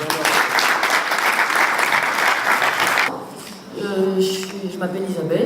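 Loud audience applause fills the room for about three seconds, then drops away to quieter scattered clapping while a voice speaks over it.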